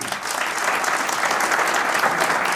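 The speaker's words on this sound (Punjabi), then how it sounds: "ਉਹਨਾਂ ਦੇ ਲਈ ਇੱਕ ਜ਼ੋਰਦਾਰ ਤਾੜੀ ਹੋਣੀ ਚਾਹੀਦੀ" A seminar audience gives rousing applause for farmers and labourers protesting at the borders: sustained, dense clapping from many hands, loud and steady, swelling slightly after the first moment and holding throughout.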